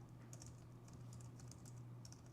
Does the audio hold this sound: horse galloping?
no